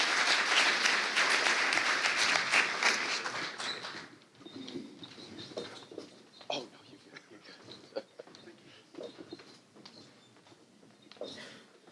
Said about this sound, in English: can we have a nice round of applause for the District 41 candidates?